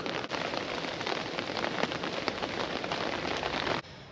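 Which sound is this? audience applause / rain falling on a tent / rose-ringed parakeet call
rain falling on a tent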